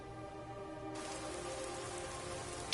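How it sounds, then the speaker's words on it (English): Rain pours in the Skyrim video game with the Oblivion Weathers mod, a soft hiss that swells suddenly into a steady, fuller downpour partway through, with a faint tonal ambience underneath. "Oh my god, it's raining."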